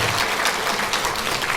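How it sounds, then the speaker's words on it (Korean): Church congregation applauding during an Easter service, loud close dense clapping filling the room steadily from start to end without speech. "박수로 한번 우리 격려하겠습니다"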